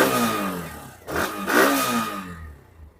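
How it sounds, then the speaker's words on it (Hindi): A Hero Xtreme 125R motorcycle revs up twice, its exhaust note rising and falling close by, then settles back to a steady idle before fading. "एक्सट्रीम 125R के एग्जॉस्ट नोट को, तो एक बार इसका भी साउंड जो है वो चेक करते हैं।"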